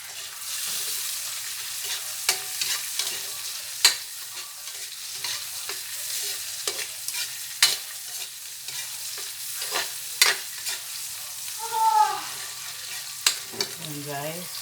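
Shrimp sautéing in butter in a pan, a steady sizzle with scattered stirring clicks and scrapes throughout, plus a few brief higher squeaks near the end; no talking.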